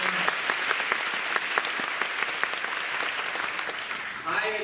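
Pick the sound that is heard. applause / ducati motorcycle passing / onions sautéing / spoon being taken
applause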